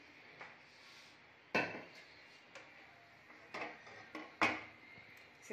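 A metal kadhai and utensils being handled while cooking kadhai paneer in a home kitchen: a few sharp metallic clanks and knocks scattered among softer scrapes and taps, with quiet moments between.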